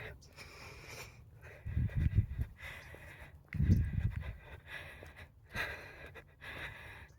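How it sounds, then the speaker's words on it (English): A person walking outdoors breathes heavily, with a few deep, rough inhales and exhales in slow bursts, close to the microphone over a faint background hiss. "I'm already breathing heavily."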